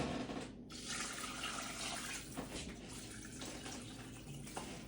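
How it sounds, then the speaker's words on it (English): Water pours steadily from a tap over chicken stock ingredients in a crockpot, a continuous close splashing and filling sound with no talking. "Now pour water over top until everything's covered."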